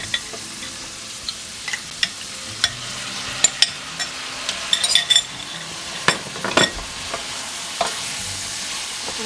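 Shrimp go into a sizzling pan of andouille sausage and are stirred, a steady frying hiss with sharp clinks and scrapes of a utensil against the pan, and no talking.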